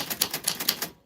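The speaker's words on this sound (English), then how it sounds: "your name fell on the typewriter bell" Typewriter keys clack close up in a quick, even run of about nine strokes, then stop into silence.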